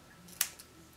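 Small pieces of paper are cut for a family album page: one crisp, close snip followed by a fainter second click, quiet and with no talking.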